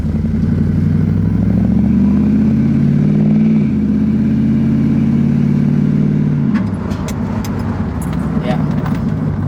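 An LS-swapped Chevrolet S10 truck driving and shifting gears: a loud, steady engine drone from inside the cab, its pitch climbing then dropping at a shift change, with rattling clatter afterward and someone talking over it.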